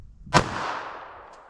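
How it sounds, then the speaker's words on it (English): A single sharp gunshot from a .32 ACP pocket pistol, loud and close, with a ringing outdoor echo trailing off afterward. "Let's hit that with our 32 ACP."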